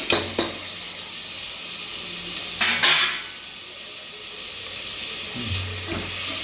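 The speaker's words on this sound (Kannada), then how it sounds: "ಈಗ ಟೊಮ್ಯಾಟೊ ಹಾಕ್ತೀನಿ" Tomatoes tipped into a hot pan while cooking vegetable kurma for ghee rice, giving a couple of clattering knocks and a burst of steamy sizzling hiss that settles into a steady fry.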